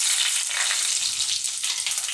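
Vegetables and spices for veg biryani sizzle in hot oil, a dense, bright, continuous crackling hiss heard up close and fairly loud, with no talk.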